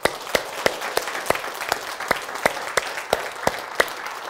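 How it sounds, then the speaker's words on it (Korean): An audience at a church Bible-and-science lecture claps in a steady, even rhythm, with sharp beats about three times a second, fairly close and with no talking. "그때 박수 좀 쳐주세요."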